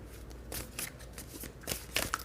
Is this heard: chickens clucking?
no